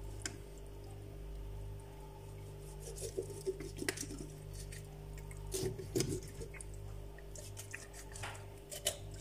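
Kitchen shears cut through the breast of a whole, cleaned raw chicken, giving a few soft, wet squishes and crunchy snips up close over a faint steady hum.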